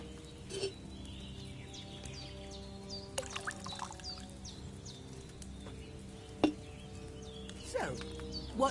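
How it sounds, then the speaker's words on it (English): Wine poured into a cauldron in Kingdom Come Deliverance II, a faint steady liquid trickle over quiet ambience, with a few soft clinks and bird calls scattered throughout. "So, what did you pour in there? Wine, of course."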